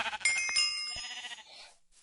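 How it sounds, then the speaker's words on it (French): Sheep bleating in a Minecraft-like video game, one wavering bleat up close, loud and alone, trailing off. "Non, les moutons."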